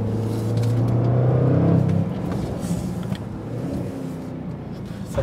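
Jaguar F-PACE SVR engine pulling hard on a winding road, a loud sustained drone building over the first two seconds, then easing to a steadier cabin hum with faint shifts.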